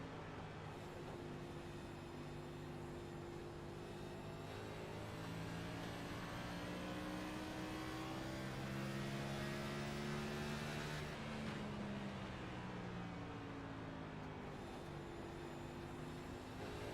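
NextGen race cars in iRacing at Phoenix, layered engine drones rising and falling in pitch as several cars run close together, a denser swell of engines passing around the middle, steady and fairly quiet without talk.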